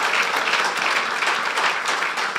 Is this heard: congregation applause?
yes